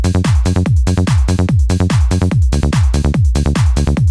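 A homemade variation of the double offbeat hard house bass pattern, with loud, tight bass stabs repeating in a fast, steady pumping rhythm between kicks, playing alone without any voice.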